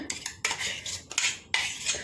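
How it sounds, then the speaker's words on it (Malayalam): Crushed ingredients for spiced buttermilk being tipped into a vessel, metal utensils clinking and scraping against the pot in several sharp, close bursts over about two seconds, with no talk. "ചതച്ചതെല്ലാം കൂടി നമ്മളൊരു പാത്രത്തിലേക്ക് ഇടുകയാണ്"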